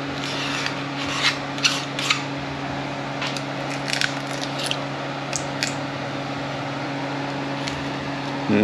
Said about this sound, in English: Some of you probably already freaking out that I'm cleaning gasket now